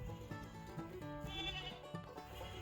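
A dairy goat on a homestead farm in winter, bleating in repeated wavering calls over a busy mix of other livestock noise, fairly close and steady throughout.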